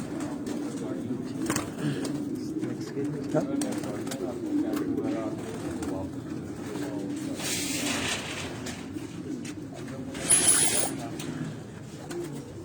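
Racing pigeons coo steadily on a loft roof in Quetta, a low continuous murmur from several birds close by, with a brief louder flutter near the end.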